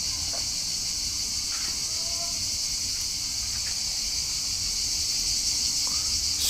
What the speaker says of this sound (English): Listen to the amount of cicadas.